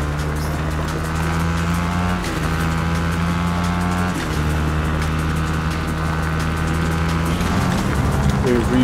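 A motorbike engine in Fortnite runs loud and steady, humming at a constant pitch with slight rises in revs, while voices chat over it.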